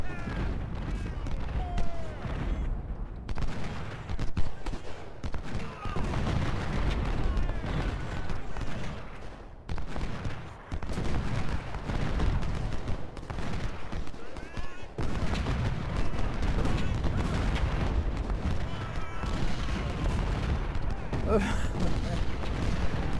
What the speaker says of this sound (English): see how their guns can just blast us away like that?